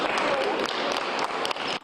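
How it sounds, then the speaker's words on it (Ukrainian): Steady crowd applause fills a hall at the Mystetskyi Arsenal art gallery as a guest walks in, a dense continuous patter of many hands with a voice talking over it. "Ось так під оплески зайшла до мистецького арсеналу Валерія Вірська."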